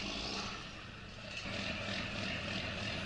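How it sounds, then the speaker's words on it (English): Tractor engine in the Sussex Farm game on PS4, a steady droning hum running for about three seconds with a slight dip midway, fairly quiet and with no voices. "So it's the same tractor, same engine, sounds good."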